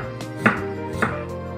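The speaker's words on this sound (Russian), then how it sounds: "Нарезать нужно все соломкой." Two crisp knife chops on a cutting board while cutting beets into thin strips, about half a second apart, over a steady background hum.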